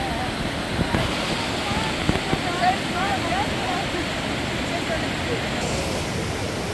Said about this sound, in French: Alors voici Fossa, c'est la plus grande cascade des îles Féroé.